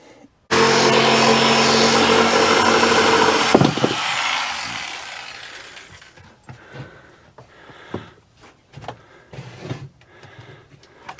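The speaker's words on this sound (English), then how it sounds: "You can try with your jigsaw if you want." A jigsaw cuts a wooden board inside a van, a loud close buzzing whine for about three seconds that winds down, followed by scattered knocks and handling sounds.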